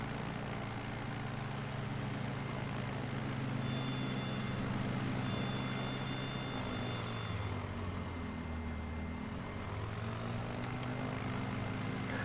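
A Savage Cub propeller plane in Microsoft Flight Simulator 2020 drones steadily throughout, its engine a continuous loud hum with a faint tonal whine rising briefly partway through, no voices.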